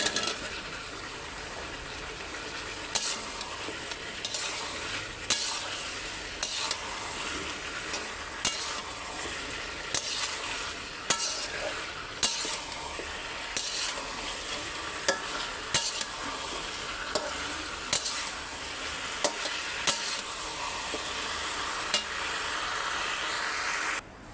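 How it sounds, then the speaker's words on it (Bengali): Taro (maan kochu) frying in a pan with rohu fish curry and lentil dumplings: a continuous close sizzle broken by regular sharp clicks and scrapes of a spatula stirring, with no voices. "আমি এখন কচু দেব"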